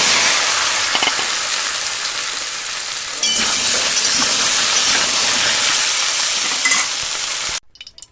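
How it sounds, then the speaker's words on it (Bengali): Taro and potato pieces fry in oil left over from frying fish, a loud continuous sizzle with stirring, briefly dipping and then ending abruptly near the close. "এই মাছ ভাজার তেলেই আমি গুঁড়ি কচু আলুটাকে ভেজে নেব।"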